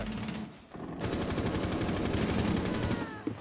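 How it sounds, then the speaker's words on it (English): Rapid automatic gunfire in the video game Rainbow Six Siege, a dense burst of shots after a brief gap, loud and close, ending with a single sharp report. "Shot him in the fucking face, too."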